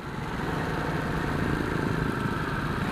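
Harley-Davidson Nightster V-twin motorcycle engine running with a fairly quiet stock exhaust, a steady low throbbing rumble with a continuous mechanical drone, close and even, no talking.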